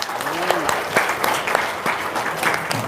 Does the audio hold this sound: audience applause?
yes